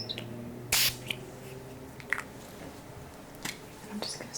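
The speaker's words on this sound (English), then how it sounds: "I'm just going to spray my palm." A hydrosol bottle sprays a single short hiss onto an open palm, followed by faint taps and small clicks over a quiet indoor room tone.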